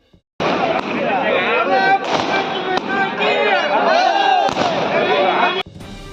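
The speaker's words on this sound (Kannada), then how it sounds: "ಪಟಾಕಿ ಸಿಡಿಸಿ ಸಂಭ್ರಮಿಸಿದ ಯಳವತ್ತಿ ಗ್ರಾಮದ ಬಿಜೆಪಿ ಕಾರ್ಯಕರ್ತರು" Firecrackers burst in scattered sharp cracks, loud and irregular, at a village election victory celebration, with a voice talking over them throughout.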